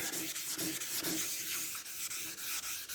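Sandpaper on a flat block rubs primer on a Honda ST 1100 panel, a dense close scratching hiss with regular back-and-forth strokes changing direction, with no talk.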